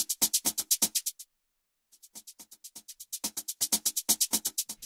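Drum loop driven hard through a pentode tube distortion plugin, a fast run of crunchy, saturated hits that stops briefly, then returns quietly and swells back to full loudness.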